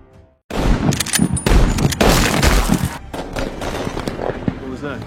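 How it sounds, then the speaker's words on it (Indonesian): A dense burst of gunfire in a film, rapid automatic cracks and heavy booms overlapping loudly and continuously, with shouting voices mixed in under the shots. "mereka bergerak maju dan melepaskan tembakan, sehingga kontak senjata pun terjadi"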